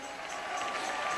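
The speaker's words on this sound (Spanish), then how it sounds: "Dale ese aplauso a Jesús." Church congregation applauding for Jesus during a Spanish-language sermon, a steady wash of clapping and cheering filling the room.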